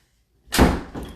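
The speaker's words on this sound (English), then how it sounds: "Door slam." A door slams shut once, loud and close, after a moment of silence, with a brief rattling decay following the impact.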